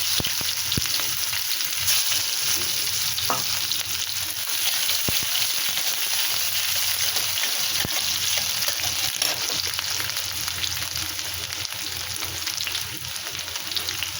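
Chilli, black cumin seeds and onion frying in hot oil for an okra recipe, a loud, continuous sizzle that stays close and steady throughout, with occasional light clicks and no talking.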